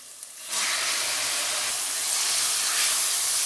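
Peeled, diced tomatoes and peppers hitting hot oil in a pot, bursting into a loud, steady sizzle that holds continuous hiss without talk.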